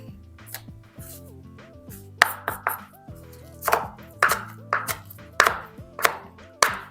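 Knife chopping spring onions on a board, a string of crisp irregular taps over a background of steady musical tones, no talk.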